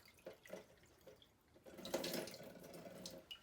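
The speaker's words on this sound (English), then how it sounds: "I'm filling up the measuring cup." A kitchen tap runs water into a measuring cup, with a few soft splashes and drips at first, then a steadier, louder stream of filling that continues to the end, close by and quiet.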